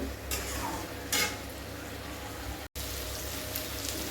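A pointed gourd, eggplant and poppy seed curry is stirred in a pan, with a few louder scrapes of a utensil against the metal over a soft, steady sizzle, close by and without talk.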